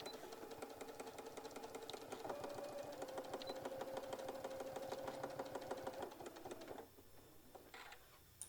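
A sewing machine stitching straight across a tote bag, a fast, even mechanical rattle of the needle running for several seconds before stopping, followed by quieter handling sounds.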